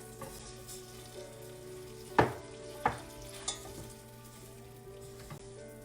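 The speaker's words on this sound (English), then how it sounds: "So you have to constantly be at this with a spatula, okay? Turning." A spatula scrapes and stirs melted butter and brown sugar in a pan, giving a soft steady sizzle punctuated by three distinct scraping knocks, all faint and with no talking.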